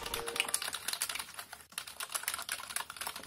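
Rapid typing on a NOD Illuminati LED backlit keyboard with a German layout, close up and alone; quick, uneven key clicks with a brief pause midway.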